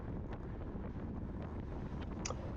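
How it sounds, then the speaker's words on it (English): Gusty crosswind buffets the microphone of a cyclist during a masters circuit road race, a steady low rumbling roar with a few brief rising gusts and no voices. "right to left cross headwind"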